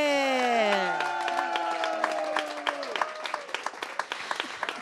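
Studio audience applause following a dance routine on a Romanian television show, steady clapping building into sharp distinct claps, with a singing voice or tonal sound fading out at the start.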